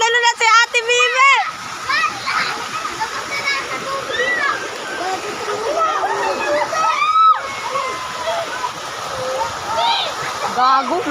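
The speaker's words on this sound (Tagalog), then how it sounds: "Ay lang si Ate Bibe, tatalon na!" Someone jumps into swimming water, with splashing and sloshing mixed into the noise of children shouting and chattering nearby throughout.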